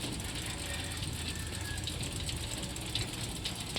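Homemade turkey rotisserie with a large sprocket turning, a faint steady mechanical ticking and whirring with a soft ratchet-like rhythm, heard alone at low level.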